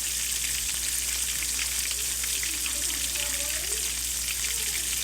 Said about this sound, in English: All right, so this is sizzling up real good now.